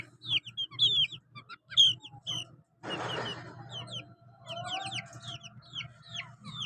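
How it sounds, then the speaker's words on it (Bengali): Several chickens cluck and peep close by in quick, overlapping bursts, with a brief rustling scuffle partway through and chicks chirping above. "এই হলো আমাদের মুরগির ছাউ"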